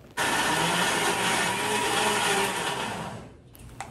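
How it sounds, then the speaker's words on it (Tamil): A grinder churning idli batter, a loud steady motor whir running almost the whole time before cutting off abruptly near the end. "இப்போ இட்லிக்கான மாவு அரைக்க போகிறேன்"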